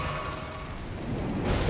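Steady rain and low rumbling thunder from a lightning storm in the video game Elden Ring, a continuous broad wash that swells slightly toward the end, with no talking.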